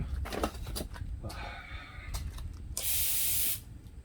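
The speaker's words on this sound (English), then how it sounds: "I'm going to just put some grease on it." A grease spray can hisses in one steady burst of under a second, loud and close, as lubricant is applied to the creaking pivot of a Lectric XP e-bike.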